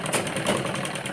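A sewing machine stitches a netted princess-cut blouse along marked lines, giving a short, steady, even mechanical whir close by with no talking.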